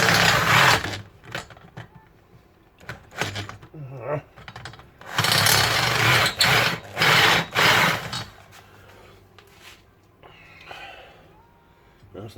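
A step drill bit grinding through a weld on a Mk5 Ford Cortina body shell during restoration, harsh intermittent drilling bursts close by, broken by pauses and a voice talking.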